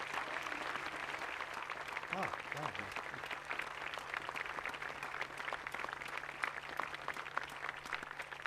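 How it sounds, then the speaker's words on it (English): A ceremony audience applauds the family of a fallen Marine, the clapping steady but fairly faint over a low hum, while a voice briefly speaks over it. "We should all give them a very big round of applause and thank them for their service"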